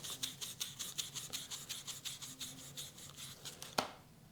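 Sandpaper rubs back and forth over the tip of a ceramic-bearing foil drive motor shaft, about fifteen quick, even, close raspy strokes, then a small click as it stops.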